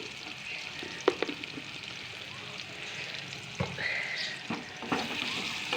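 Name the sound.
onions frying lightly in a pan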